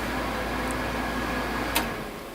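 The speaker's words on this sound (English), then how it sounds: "You hear the fan going on." The fan of an industrial oven for testing asphalt roofing shingles runs with a steady, droning whir and faint tonal hum, unbroken apart from a single brief click.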